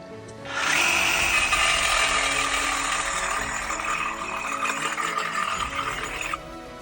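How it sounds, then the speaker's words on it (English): A DeWalt 367 reciprocating saw with a 14 TPI DeWalt blade cuts through thick steel, giving a loud, steady, close buzzing rasp that starts abruptly, holds for about six seconds, then stops. "the last reciprocating saw that we have with the same 14 TPI DeWalt blade, and this is the 367 reciprocating saw"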